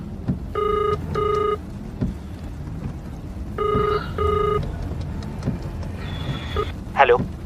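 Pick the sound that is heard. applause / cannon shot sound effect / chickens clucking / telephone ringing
telephone ringing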